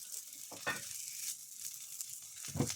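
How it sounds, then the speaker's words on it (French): A thawed steak searing on a fairly hot cooking plate, with a soft continuous sizzle broken by brief louder crackling bursts and a sharp pop near the end, close by. "Je mets, la plaque quand même assez forte, mais je fais en sorte de pas brûler, mon steak."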